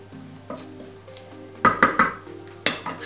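Kitchen clatter as leeks for potato leek soup cook slowly in a pan: soft utensil scrapes, then a few sharp metallic clinks and knocks of pan and spoon, close and intermittent over a low steady hum.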